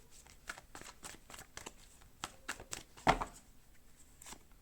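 Tarot cards being shuffled and drawn from the deck, a series of soft, close papery riffles and flicks with a sharper snap near the middle, quiet and without speech.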